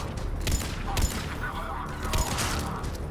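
Gunfire in the video game Mass Effect 3, several sharp shots at uneven intervals over a busy game soundscape, one landing as a headshot, with a voice talking through.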